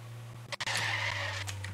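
A car drifts and skids in a video game, with a sustained hissing tire screech that starts after a couple of short bursts and runs to the end over a low engine hum.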